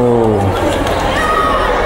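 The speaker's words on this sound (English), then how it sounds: "And the crowd has gone wild" A crowd at a school football tournament roars and cheers loudly and continuously, a wall of excited voices with no pause.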